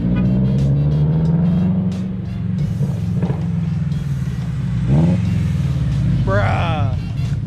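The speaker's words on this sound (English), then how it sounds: "I did a quick run for him because he never heard his car from the outside, especially with this new exhaust." A Rocket Bunny FR-S fitted with a new exhaust revs loudly nearby in repeated surges, with crackles between pulls and a final rising rev, while voices talk over the engine.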